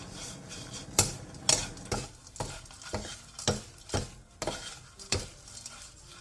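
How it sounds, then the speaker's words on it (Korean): Shelled anchovies dry-fried and stirred in a dry pan over medium heat, with repeated sharp scraping strokes of a utensil against the pan roughly every half second over a soft sizzle, close and moderately loud. "마른 팬에 깐멸치 3컵을 넣고 중불에서 3분에서 5분 정도 볶아 수분을"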